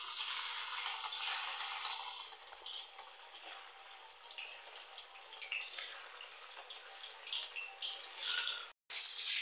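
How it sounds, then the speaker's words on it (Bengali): Paneer frying in hot oil in a wok, a steady bright crackling sizzle that stays loud and continuous, with a brief pause near the end before it resumes. "আমি কড়াইতে তেল দিয়ে দিচ্ছি পনির ভাজার জন্য"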